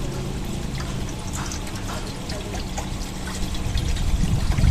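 Turmeric-tinted water pours and trickles over a Buddha statue during a Lao bathing ritual, a steady splashing stream under faint background noise that swells louder toward the end.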